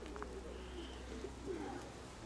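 Soft, rolling cooing from a pigeon, several short phrases heard faintly over a constant low hum.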